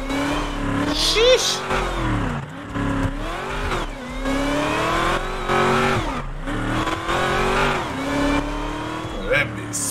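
A Demon Daytona Charger in a driving video game revs and accelerates repeatedly, its engine note rising and falling through gear changes with faint tire squeal, while someone talks over it.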